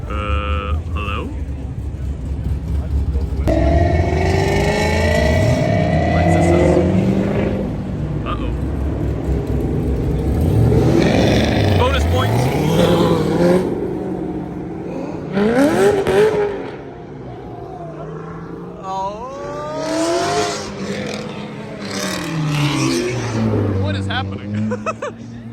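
A Toyota Supra accelerates past at a busy Cars and Coffee gathering, its engine rising in pitch through revving sweeps amid other car noise, with people talking throughout.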